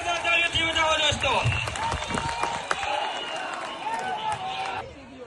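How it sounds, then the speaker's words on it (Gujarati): A crowd at a farmers' protest in Jetpar village, Morbi, against a power grid company, breaks into sustained clapping for about four seconds, loud and close, mixed with someone talking and crowd noise. "જોરદાર જેતપર ગામને જોરદાર તાળીઓથી વધાવો દોસ્તો"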